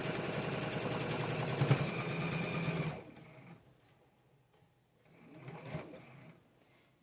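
A sewing machine stitches quilt pieces in a fast, steady mechanical whir for about three seconds, then pauses and runs again more softly in a shorter burst.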